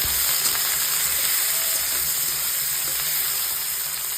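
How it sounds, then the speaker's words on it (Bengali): Onions go into hot oil in a karahi already seasoned with salt and bay leaf, giving a steady, close, loud sizzle and hiss with no break and no talking. "এইবার আমি পেঁয়াজটাও দিয়ে দেব।"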